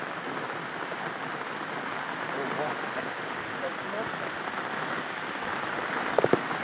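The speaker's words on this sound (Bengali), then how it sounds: "আপনারা দেখতেছেন যে যে কীরকম বৃষ্টি পড়তেছে অনেকদিন পরে" Heavy rain falls steadily on hillside farmland, a dense, even hiss of drops on surfaces that stays close and unbroken throughout, with a few brief knocks near the end.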